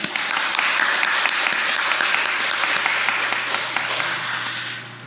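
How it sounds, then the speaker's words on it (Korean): A church congregation claps together during a worship service, steady indoor applause lasting a few seconds before tapering off near the end. "우리 박수로 환영하겠습니다."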